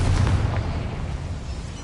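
A spell explosion from the Hogwarts Legacy video game: a loud, deep booming blast that rumbles low and decays over about two seconds, with no talking.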